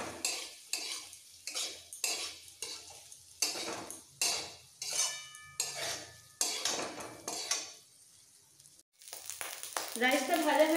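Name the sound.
plain rice being stir-fried in a pan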